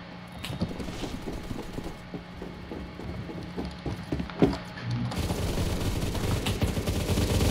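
Sustained gunfire from a first-person shooter firefight in Phantom Forces, with rapid automatic bursts and scattered shots running throughout at moderate loudness, one sharper crack standing out near the middle, and no talk.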